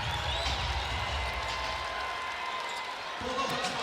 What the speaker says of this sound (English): She'll get a nice round of applause as she heads to the bench with Kiki